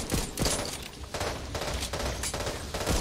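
Sustained loud bursts of gunfire in the co-op zombie shooter video game Back 4 Blood, shots clustered in rapid volleys with brief gaps, no talk.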